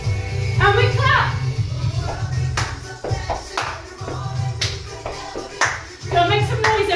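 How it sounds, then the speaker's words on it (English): A dance class claps along in a theatre academy tutorial, with sharp group claps landing in rhythm over upbeat music while an instructor calls out moves. "and we clap."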